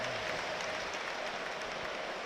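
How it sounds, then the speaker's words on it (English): Football crowd in a packed stadium at Sunderland versus Southampton, a dense, steady roar of massed voices chanting from a distance, continuous and even without breaks. "The crowd are chanting his name."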